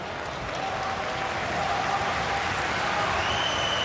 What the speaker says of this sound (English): And again, it draws the applause from the appreciative crowd.